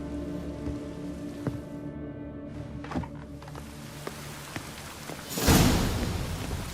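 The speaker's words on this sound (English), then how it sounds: "Just rains and rains." Steady rain falling on surfaces in Witcher 3 Wild Hunt (Next Gen Update), with scattered drip-like thunks and a game musical tone underneath, then a louder swelling gust of rain near the end.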